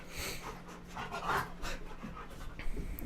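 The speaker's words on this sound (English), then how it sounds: "Can you guys hear my dogs?" Dogs panting near a microphone during a home aquarium live stream, a steady rapid huffing breath that runs throughout under a faint background hum, with no talking.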